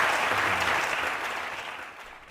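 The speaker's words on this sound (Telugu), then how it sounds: "దీనికి ఆడియన్స్ ఖచ్చితంగా క్లాప్ చేయాలని కోరుతున్నాను" A television studio audience at a courtroom-style talk show bursts into dense applause, loud at first and then slowly fading over a couple of seconds.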